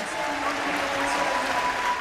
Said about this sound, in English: And now we can hear the crowd